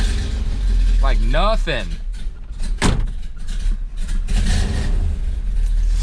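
A 1965 Corvette with an old 4-speed starts and runs, a loud, close low engine rumble that continues steadily. A voice speaks briefly over it.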